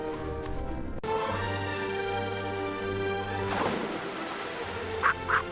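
A duck quacking in a Tom and Jerry cartoon, loud, close bursts mixed with sustained tonal cartoon sounds and a sudden sharp change partway through.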